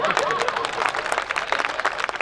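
Audience applause at a live Hindi kavi sammelan poetry event, the Singrauli Gaurav Mahotsav, a dense steady clapping that carries on throughout with crowd noise and voices mixed in.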